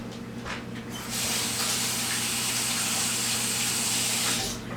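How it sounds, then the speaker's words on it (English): A kitchen tap runs while a hand is rinsed after handling onions. The water starts after about a second and rushes steadily and close by, then cuts off near the end. No one speaks. "Go give my hand a rinse."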